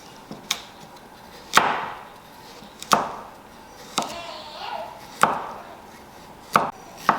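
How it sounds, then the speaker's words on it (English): A knife chops garlic and turmeric on a cutting board for a Cambodian fish amok, heard as sharp, close single strokes at a steady, unhurried pace about once every second or so, with quieter scraping between them. "garlic, turmeric. You can chop them a little bit more."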